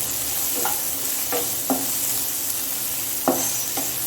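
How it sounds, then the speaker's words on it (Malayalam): Three green chilies sauté in a hot pan for poha, a steady close sizzle with about five quick spatula strokes scraping through it and no talk. "സോട്ടാവാൻ വേണ്ടിയിട്ട് കുറച്ച് നേരം വെക്കാം"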